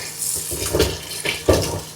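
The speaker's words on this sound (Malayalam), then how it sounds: "കപ്പയൊന്ന് കഴുകിയെടുക്കാം." Tapioca (kappa) being washed by hand in water in a home kitchen, with soft splashing and sloshing and a few clunks of the pieces against a vessel, close and moderately loud.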